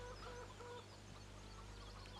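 Chickens in the Farming Simulator 17 game cluck softly on a farm map, with a few short, quiet clucks over a faint, steady background hum.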